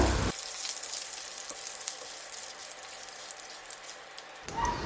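Mustard seeds, spices and curry leaves sizzle and crackle steadily in hot oil, a continuous close frying hiss with occasional pops.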